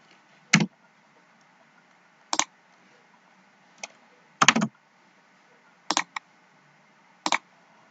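Keys on a computer keyboard are struck one at a time, with about six crisp, separate taps spaced irregularly across a quiet room.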